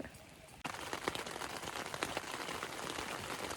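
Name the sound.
rain falling on a tent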